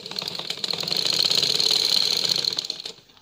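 A simple sewing machine stitches two small pieces of cloth together, running as a steady, fast mechanical whir with a rapid needle clatter for about three seconds before slowing to a stop.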